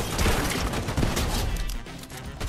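Rapid gunfire crackles in dense, overlapping bursts throughout a fight in the Fortnite video game, loud and continuous with no talking over it.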